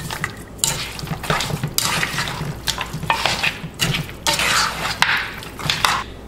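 Vegetables tossed with lime juice in a bowl for a Haitian vegetable stew: loud, close bursts of wet stirring and clattering against the bowl, coming in uneven surges and pauses.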